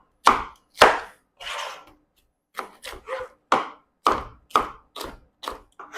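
A knife dices courgettes and other vegetables into little squares on a cutting board, each stroke a sharp, close knock in an uneven series of about a dozen chops with brief pauses between them.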